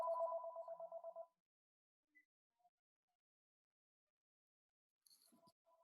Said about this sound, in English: So there's my neighbor's phone ringing.